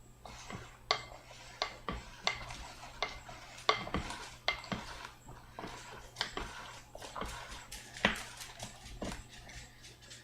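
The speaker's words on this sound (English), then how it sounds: "So I'm going to just stir this up, make sure that everything's all nice and evenly coated." Bread soaked in a wet egg mixture is stirred in a bowl for a bread rhubarb apple cobbler, producing repeated close clinks and soft squelching taps in an irregular rhythm, with no talk.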